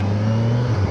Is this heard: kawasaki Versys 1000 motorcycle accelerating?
yes